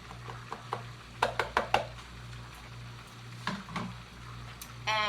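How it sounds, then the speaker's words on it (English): Seasonings are stirred into butter in a pan: a quick series of sharp utensil clicks and scrapes against the pan, then a couple more taps, over a low steady hum. "And give that a stir."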